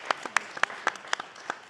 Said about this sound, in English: And round of applause for Satya.